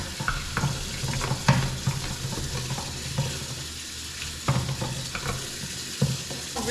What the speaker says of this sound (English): I like to take this brush and just kind of go around in there just to scrub it